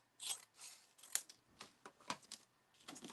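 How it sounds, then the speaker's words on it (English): Scissors snipping paper shapes for an abstract art project, a series of quiet, crisp separate cuts spaced irregularly, close by and faint, with no talking. "let's cut some of these shapes"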